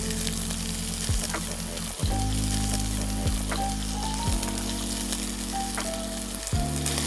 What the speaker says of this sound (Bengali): এবারে প্রথমে পেঁয়াজ দেব